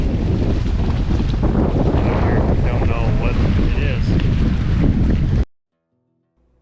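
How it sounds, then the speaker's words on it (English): Loud wind buffets the microphone in a constant roar, with a voice speaking briefly underneath, then it cuts abruptly to silence. "But today, it's a little bit windy."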